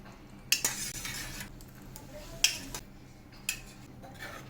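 Fried paneer cubes, soaked in water, dropped into palak gravy in a pot, with a few sharp clinks of a spoon against the vessel at separated moments over a quiet background.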